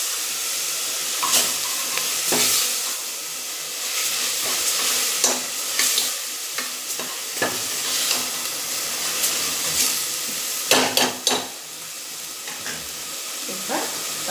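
Mutton pieces sizzle steadily in a pan with sautéed mint, loud and close, while a spoon scrapes and stirs in irregular knocks over the constant frying hiss.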